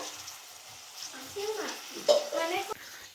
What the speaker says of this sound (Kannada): ಒಂದು ಸ್ವಲ್ಪ ನೀರನ್ನ ಇದರಲ್ಲಿ ಮಿಕ್ಸ್ ಮಾಡಿಬಿಡೋಣ